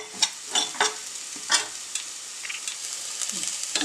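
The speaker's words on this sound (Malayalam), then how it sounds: "ഇപ്പം ഇടയ്ക്കിടയ്ക്ക് ഒന്ന് ഇളക്കിക്കൊണ്ടിരിക്കണേ" Soya chunk curry masala frying in a pan, with a steady sizzle under repeated scraping stir strokes, loud and close at first and then settling into a softer continuous frying hiss.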